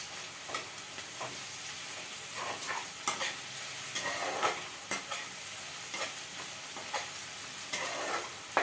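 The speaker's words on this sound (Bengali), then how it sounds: "পেঁয়াজটাকে অল্প একটুখানি ভাজতে হবে।" Onions frying in a pan in a home kitchen, with a steady soft sizzle and repeated stirring scrapes spread evenly throughout; no one speaks.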